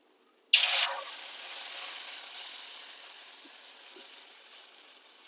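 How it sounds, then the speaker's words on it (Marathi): Water splashes into a pan of reddish fried garlic and chilli for a ragi buttermilk porridge: a sudden loud hiss at first, then a fading sizzle that trails off over several seconds. "आता ह्यामध्ये टाकूया आपण पाणी"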